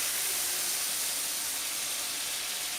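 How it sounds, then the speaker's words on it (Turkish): Tomato paste frying in a pan over medium heat for Izmir köfte, giving a steady, even sizzle that stays close and constant with no pauses and no talking. "Hemen salçamı ilave ediyorum. Bunu da güzelce kavuracağım."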